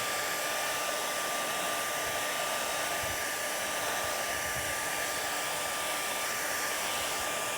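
A hair dryer blows steadily and close to dry wet watercolour paint, a constant broadband whoosh that holds unbroken for the full length with no voices.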